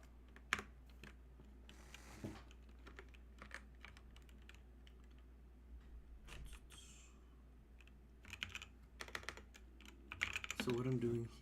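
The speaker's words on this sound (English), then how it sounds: "type on a nice sounding keyboard" Typing on a mechanical computer keyboard while writing code, with irregular bursts of close, crisp key clicks and a faint steady hum underneath.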